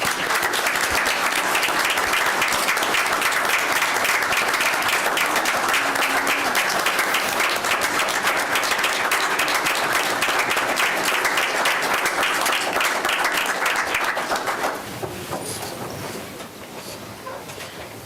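Audience clapping at a county board meeting, a broad, sustained patter of many hands filling the room for about fifteen seconds before dropping off abruptly into quieter room noise.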